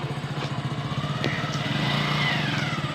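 Motorcycle engine idling and revved lightly during a child's bike-riding lesson, a close, steady putter with small rises in pitch, loud and continuous.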